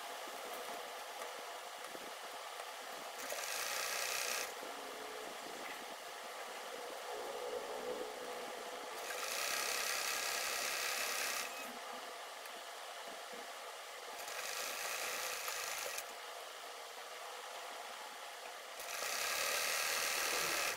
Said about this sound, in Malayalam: ആദ്യം ആ 2 ഇഞ്ചിൻ്റെ മുകൾ ഭാഗം സ്ട്രെയിറ്റ് ആയിട്ട് സ്റ്റിച്ച് ചെയ്ത്